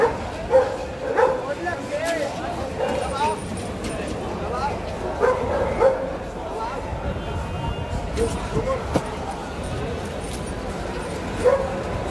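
Dogs, including a tall, long-legged one, bark and yip amid a busy crowd at an Alexandria Friday street market, with steady chatter and voices throughout; the barks come in scattered bursts at moderate distance.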